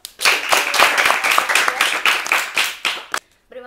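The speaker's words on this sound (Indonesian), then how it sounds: "Oke, tepuk tangan dulu." A small audience at an informal Ramadan talk session bursts into brisk hand clapping, loud and close, fading out after about three seconds before a brief voice.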